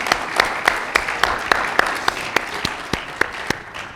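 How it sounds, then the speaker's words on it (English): Applause from an audience at a campus fireside chat, moderately loud and even, with individual sharp claps punctuating a steady crowd wash throughout. "Would you give him a round of applause?"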